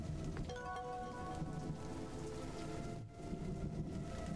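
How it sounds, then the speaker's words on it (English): Steady rain in a video game pours down in a dense, continuous hiss, with a brief dip near the end before the downpour resumes; a faint tonal hum sits underneath. "We don't need to, though, because it's raining."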